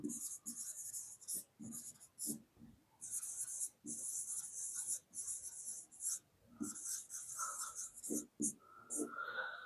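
Chalk or marker writing on a classroom board during a coordinate geometry lecture, with quick scratchy strokes in short bursts and faint background sounds.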